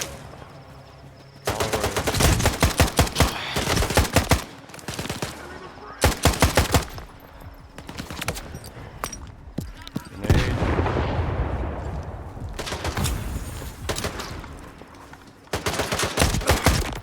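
Repeated sharp rifle shots from a scoped weapon ring out in a Stalker 2 firefight, coming in dense rapid volleys with brief pauses, loud and close amid game ambience.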